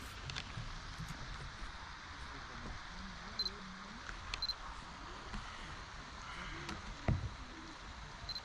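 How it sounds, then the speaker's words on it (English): A Canon EOS 5 film camera, heard very close up outdoors in a park, gives a few faint, sharp autofocus confirmation beeps and a single quick shutter clack near the end, over quiet outdoor ambience. "autofocus confirmation beep, but in reality it is a lot quieter than what you hear in the video"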